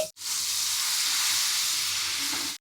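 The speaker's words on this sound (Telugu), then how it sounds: "నూనెలోకి అల్లం వెల్లుల్లి పేస్ట్ వేసుకోవాలి." Ginger garlic paste drops into hot oil for a gongura chicken dish and sizzles with a loud, steady hiss that starts abruptly and cuts off after about two and a half seconds, with no talking.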